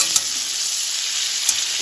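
Boiled cauliflower fries in hot mustard oil, a steady close hiss of sizzling with a couple of faint soft clicks, brief and alone.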